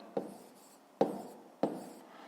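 Pen strokes on paper during a fifth-grade math exercise: three short scratchy bursts, each fading quickly, close and fairly quiet with no talking.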